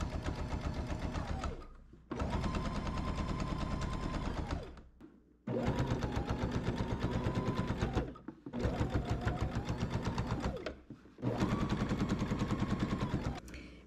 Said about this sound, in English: I'm going to start sewing about an inch in from the edge